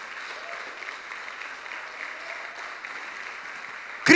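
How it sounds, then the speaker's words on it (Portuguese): A church congregation claps in steady, moderately distant applause that holds an even level throughout. A sudden loud burst close by comes right at the end. "você precisava dar um forte aplauso para Jesus,"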